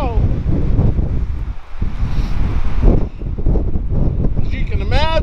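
Strong chinook wind gusting through Boulder, Colorado, a steady broadband rush that stays loud throughout, with a person talking over it.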